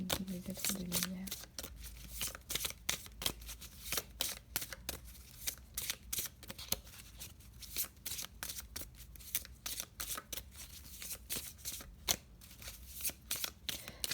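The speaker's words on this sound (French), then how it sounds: "on va encore tirer une nouvelle carte" A deck of oracle cards being shuffled by hand, a long run of quick, crisp riffling flicks repeating close up with brief gaps, and a voice speaking softly at the very start.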